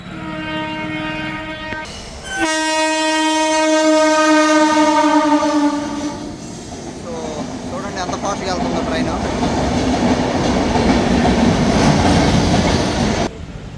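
At a railway crossing with the gate down and vehicles stopped, a loud train horn blares for several seconds, followed by the rolling rumble and clatter of a train passing close by.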